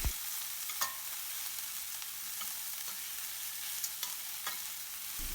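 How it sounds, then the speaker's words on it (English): A spoon gently stirs cooked rice in a pan for lemon rice, giving a soft, continuous scraping rustle with a light sizzle underneath and a few brief clinks and scrapes, close and quiet with no talking. "Once you add the rice, mix it gently."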